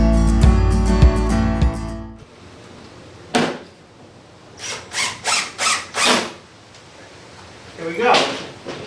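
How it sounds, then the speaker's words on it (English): A power drill drives screws into a hurricane shutter, whirring loudly and steadily for about two seconds, then giving way to a string of short, sharp knocks and clatters from the shutter hardware. "Now we put a few screws in just to hold it in place."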